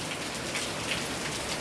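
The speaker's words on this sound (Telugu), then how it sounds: "బయట వర్షం చూసారా ఎలా పడుతుందో, ధారపోతగా పడుతుంది" Heavy rain pours down just outside a home, a dense and steady close-up hiss of drops hitting surfaces with no pauses or voices.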